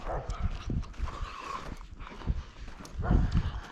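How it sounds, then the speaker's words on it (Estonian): Dogs bark in short, irregular bursts at a mining museum in Ida-Virumaa, Estonia, mixed with scattered thumps and a voice talking. "Koerad kauguvad."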